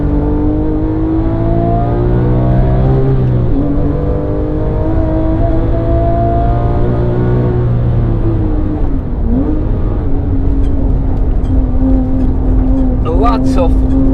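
Car engine working hard on the Nürburgring, a loud steady drone that dips and climbs twice with downshifts before rising again, with brief talk over it near the end.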